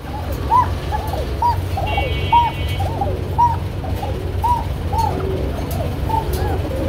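Pigeons coo at a busy pigeon market, soft rounded coos repeating roughly every half second to a second over a steady crowd murmur, with a brief higher chirp in the middle.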